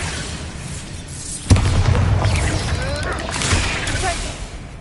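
A Bombarda explosion spell goes off in Hogwarts Legacy: one sharp boom bursts out, followed by a rumbling blast and crackling magic effects that hang on, with game sounds and a speaking voice layered over it.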